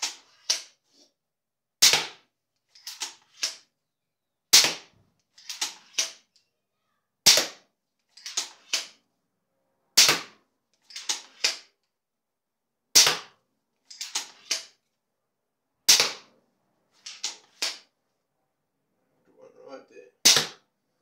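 A rapid-fire tactical crossbow shoots bolts in a long series of sharp snapping shots, each followed by quick clicks and clatter of reloading, spaced every second or two, close and crisp without talk.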